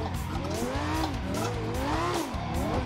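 A BMW 1M drifts sideways through a corner on a drift circuit, its tires squealing loudly and steadily in wavering pitch over a constant engine drone.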